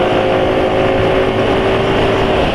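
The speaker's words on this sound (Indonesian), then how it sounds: "kondisi sekarang suara mesin sudah lebih kasar" Motorcycle engine idling steadily and running rough after a change to Kendall GT-1 Max oil with liquid titanium, a continuous close mechanical drone with a low throbbing hum and no talk over it.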